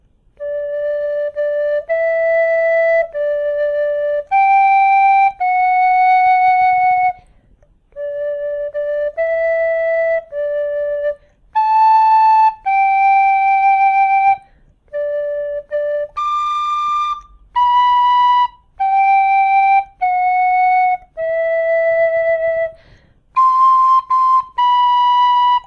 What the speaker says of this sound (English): I'm going to play Happy Birthday to you on the tin whistle, and you're going to try and play along